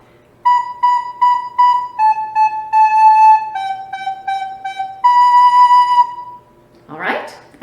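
Recorder playing a short melodic phrase of Jolly Old St Nicholas, clear repeated single notes in a steady rhythm stepping down and back, close and fairly loud, followed by a brief breathy noise at the end.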